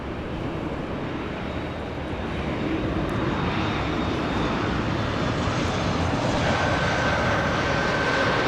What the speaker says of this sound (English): the aircraft that is lurking behind the 737 is our Air New Zealand 777-300ER, headed to Auckland